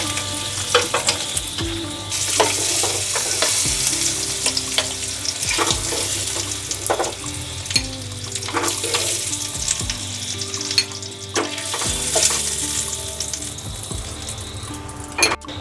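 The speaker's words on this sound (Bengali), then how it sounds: "দেখো আমার ডিম ফ্রাই হয়ে গেছে, এর থেকে আর আমি বেশি ফ্রাই করব না।" Eggs fry in oil in a home kitchen pan, a continuous crackling sizzle punctuated by scraping and stirring clicks, with no voices over it.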